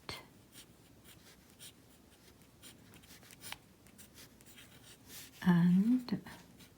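A pen scratches across paper in soft, close strokes with a steady scribbling rhythm, faint and intimate, with a brief louder rustle near the end.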